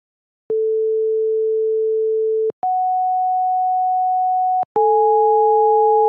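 Two pure electronic sine tones, 440 Hz A4 and 740 Hz, play one after the other in steady held blocks, then sound together as a sustained interval, each entry marked by a small click.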